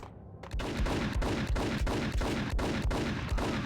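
Rapid bursts of gunfire in the video game Max Payne fire in a steady rhythm after a brief silence, loud and close, with sharp repeated shots.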